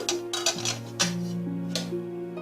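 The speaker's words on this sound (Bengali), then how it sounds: "আমি ঢাকনাটা আবার ওপেন করছি" A metal lid lifted off a pot of boiling vegetables, including aubergine, brief clanks and scrapes over a steady low hum from the stove, several distinct metallic knocks spread across a couple of seconds.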